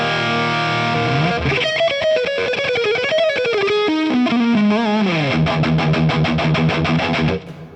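An electric guitar through a Marshall amp plays a distorted, thin melodic run with vibrato-laden sustained notes and quick picked passages, loud and solo without talk.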